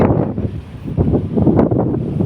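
Strong gusts beside a river buffet the microphone in low, rumbling bursts that rise and fall over a couple of seconds, loud and close with no voices.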